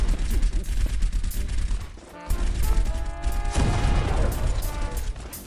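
Rapid bursts of gunfire in the mobile shooter game Heroes Strike, dense crackling shots firing in near-continuous volleys with a brief pause midway, loud and busy with mechanical game effects layered in.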